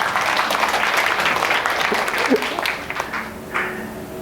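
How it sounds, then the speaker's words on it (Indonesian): Church congregation applause at a Sunday service, a dense wash of clapping held at steady loudness for several seconds, with a voice speaking briefly over it and the clapping tapering toward the end. "Berikan tepuk tangan dulu biar nggak ngantuk nih."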